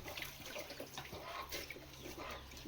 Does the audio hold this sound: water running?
yes